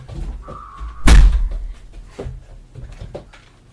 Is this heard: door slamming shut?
yes